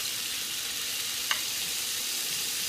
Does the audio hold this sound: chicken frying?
yes